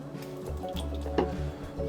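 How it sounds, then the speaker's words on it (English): Water poured onto salt for dough, a short soft trickling splash close by, steady and low in volume for under two seconds, no talking. "So we'll add about 100 grams of water to our salt."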